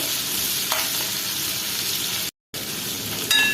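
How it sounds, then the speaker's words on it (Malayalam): Small onions frying in hot oil for a Kerala-style dal curry, a loud, close, continuous sizzle with light stirring scrapes and a brief cut to silence partway through. "കുറച്ച് ചെറിയ ഉള്ളി അതൊന്ന് കുറച്ചൊന്ന് ഇറക്കി കൊടുത്തിട്ട്"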